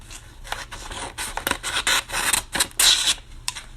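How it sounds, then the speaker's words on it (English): Scissors snipping a small piece of paper used as backing for embroidering a beanie on a Brother PR655 machine, a run of close, quick dry cuts and rustles without talk. "I'm going to cut out a nice little piece of paper"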